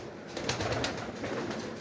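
Pigeons coo steadily and close by in a loft with its entrance open, soft rolling calls repeating under a constant low hum, with no voices.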